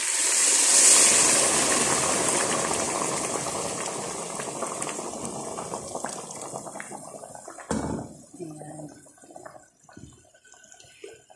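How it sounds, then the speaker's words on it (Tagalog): A pot of kabsa stew with added water bubbles and hisses at a vigorous boil, the sizzling fading gradually and giving way to softer bubbling and a few small clanks. "Papakuluin natin siya ng 20 to 25 minutes."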